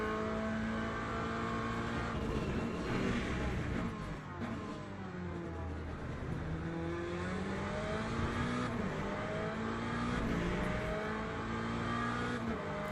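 Ford Mustang race car engine in Le Mans Ultimate, a loud continuous roar with rising and falling revs through gear changes, steady and close throughout with no talking.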